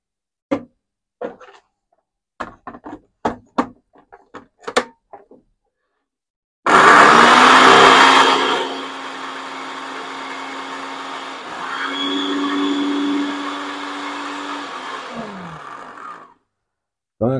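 After a few clicks and taps, a 500-watt 2-in-1 electric blender roars loudly for several seconds, eases, then whirs at a steadier speed before stopping.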